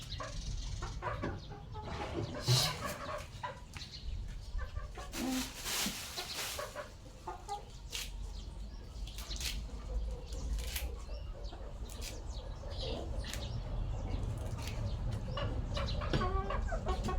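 Chickens, roosters among them, cluck at moderate distance in an outdoor rural Thai setting, intermittent calls over steady background noise with occasional voices.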